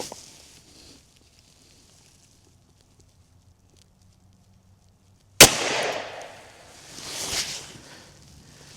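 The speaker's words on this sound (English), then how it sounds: "Okay, now we have the FPC, our 16-inch carbine." A 16-inch FPC carbine fires a single loud shot of Remington Golden Saber 180 gr 10mm after a quiet stretch, then a broad noisy swell follows.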